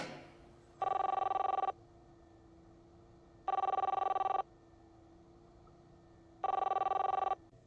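A landline telephone bell rings three times in even bursts with quiet gaps between, clear and close, with no voices.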